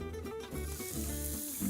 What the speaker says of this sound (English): The fillet of beef is going into the pan.